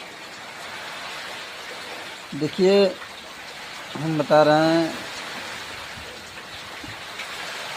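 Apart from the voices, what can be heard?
heavy rain falling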